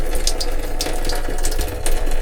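A shower in a cruise ship balcony cabin aboard the Cunard Queen Elizabeth runs at strong pressure, a steady close hiss and splash of water with faint clicks and taps scattered through it.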